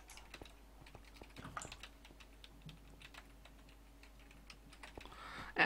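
Typing on a computer keyboard in a Danish gameplay session: a steady run of light, quick key clicks at close range, with a brief louder burst at the very end.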